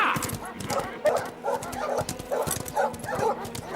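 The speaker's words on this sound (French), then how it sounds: "Emmenez ces chiens plus loin, ils font beaucoup trop de bruit." A pack of hunting dogs barks and yips in quick, overlapping bursts close by, with hoof clatter mixed in and faint voices beneath.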